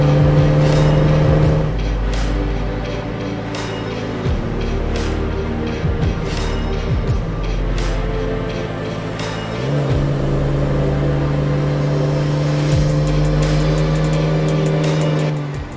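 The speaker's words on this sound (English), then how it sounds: "It is an incredibly freeing feeling driving down a beach in Mexico." A vehicle drives along a beach near San Felipe in Baja, Mexico, its loud engine droning steadily with shifting pitch as it changes gears and speed, heard close up and without talk.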